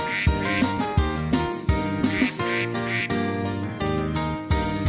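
A children's song in Spanish features a voice imitating a duck's quack in rhythmic repeated cuac-like calls over a bouncy, continuous musical accompaniment.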